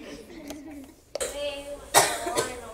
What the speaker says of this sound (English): One person coughed and nobody could hear you.